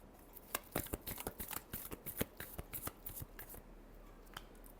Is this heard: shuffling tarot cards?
yes